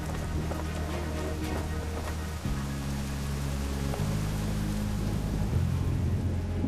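Steady rain falls during a fireworks crew's preparations for a national holiday show, a dense, continuous broadband hiss that stays loud and even throughout, with low rumbling tones underneath and no voices.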